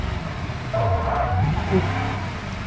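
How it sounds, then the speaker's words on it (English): In the BeamNG driving game, a virtual car's engine drones and rises briefly under a handbrake turn, with faint tyre skid tones, heard close and steady for a few seconds. "Yep, I suck at handbrake turns."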